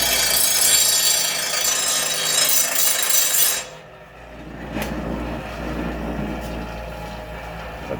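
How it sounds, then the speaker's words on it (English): A bench grinder spins a wire wheel against a rusty, dirty lawn mower blade, a loud steady whirring rasp for about four seconds that cuts off, leaving a quieter low mechanical rumble with a few faint clicks. "Probably should use a wire wheel. That way it can, you know, get a little bit of that rust and dirt off."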